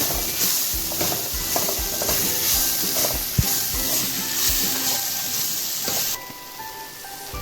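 Turmeric and chilli powder are stirred into a hot frying pan while making masala pasta: a constant sizzle up close, with repeated scraping strokes from a spoon that fade to a softer hiss at the end.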